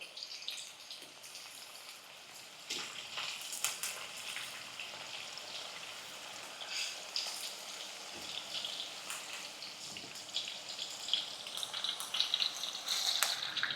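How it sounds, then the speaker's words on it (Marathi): Mixed vegetables with paneer and peas sizzle in a hot pan, a continuous crackling hiss with scattered sharper pops and occasional scraping, fairly close and alone. "बाकी सगळ्या भाज्या एक ते दोन मिनिटात ना मस्त अशा फ्राय होत आहेत बघा"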